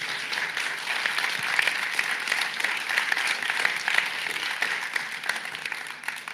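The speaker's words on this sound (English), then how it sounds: "can you just give yourself a round of applause, please?" Steady round of applause from a conference audience at a UCL leaders event, dense even clapping that holds for several seconds without talk.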